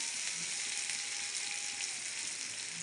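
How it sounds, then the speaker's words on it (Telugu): Onions soften in hot oil in a pan, giving a steady, even hiss of gentle frying throughout, fairly close and moderately quiet, with no voices. "ఆనియన్స్ ఇవి బాగా పచ్చిగా కాకుండా మరి ఎక్కువ వేపకుండా కొంచెం పచ్చిగా ఉన్నట్టుగా కొంచెం ఆయిల్లో మగ్గనిస్తాను"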